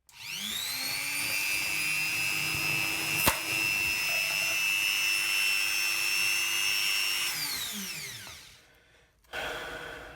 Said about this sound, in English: there's going to be a little bit of noise as I start to smooth off these edges